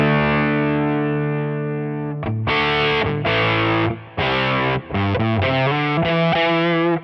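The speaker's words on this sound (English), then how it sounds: "Sounds like a fuzz." An electric guitar runs through a capture of Chrispy's Pickle fuzz pedal on a Quad Cortex, producing thick, buzzing, saturated fuzz tone: a long sustained chord, then a string of choppy, rhythmic chords and bluesy notes, loud and alone.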